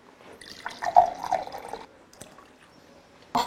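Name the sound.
water poured into bread flour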